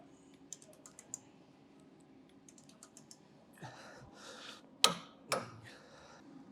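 A torque wrench tightens a B and W heavy-duty ball mount, giving a few light, sparse clicks and ticks followed by two sharper, louder clicks near the end, close by with no talking.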